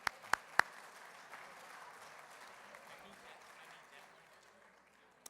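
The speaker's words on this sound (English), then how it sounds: "let's give ourselves a round of applause for raising all that money" Audience at an annual police-community awards gala gives a soft, steady round of applause, opening with a few sharp nearby claps, then a diffuse patter that gradually fades.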